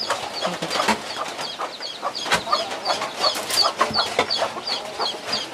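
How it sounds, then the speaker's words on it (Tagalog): A busy mix of chickens clucking and chattering nearby, with scattered sharp bird calls and irregular scratchy rustling throughout. "Ang dami ring manok"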